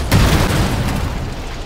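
One heavy cannon boom from a BA-6 armored car in the video game Call to Arms - Gates of Hell: Ostfront lands close and loud, then its rumble trails off.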